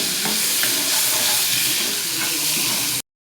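A paste of garlic, ginger, tomato and onion sizzles loudly and steadily in a hot pan, with a dense, close, even hiss that stops abruptly near the end.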